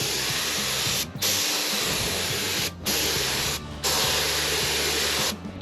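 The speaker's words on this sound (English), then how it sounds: "if I can get this stupid sprayer to spray" A paint sprayer hisses loudly in long bursts applying a top coat to a truck, stopping briefly three times before starting again, with a low mechanical hum underneath.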